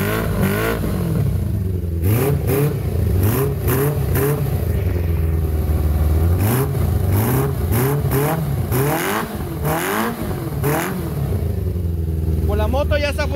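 Yamaha R6 motorcycle engine revving repeatedly in loud, rising bursts, close by, with a continuous engine drone between throttle blips; no speech is heard.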